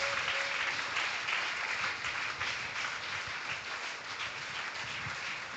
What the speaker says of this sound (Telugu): చప్పట్లు కొట్టి మహిమ చప్పట్లు కొట్టి దేవుని మహింపరచుట.